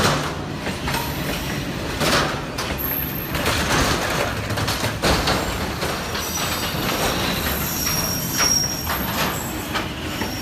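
A train on street-running tracks rumbles and clatters past close by for several seconds, wheels screeching and rattling steadily over the rails.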